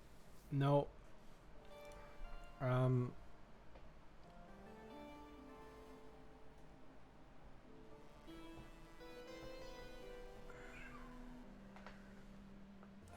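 A house cat lets out two loud, close meows in quick succession, followed by quieter background tones and a few soft sounds, with no one speaking.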